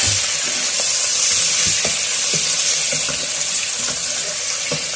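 Steady sizzling and crackling of onion and garlic frying in a pan, with occasional soft clinks of stirring, no speech.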